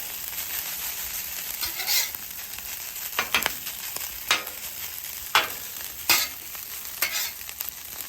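Rice warming on a hot griddle while Arroz con Pollo is prepared, with a steady sizzle under repeated scraping and stirring strokes from a spatula, close and fairly loud, with no talking.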